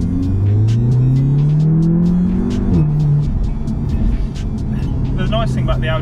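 Audi RSQ8 engine accelerating hard on fresh tyres to warm them, a loud rising rumble that climbs through the gears with a shift about halfway, recorded close from inside the car.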